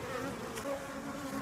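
Honey bees from a newly installed package buzz around a hive box in a dense, steady drone that stays close and unbroken throughout, with no voices.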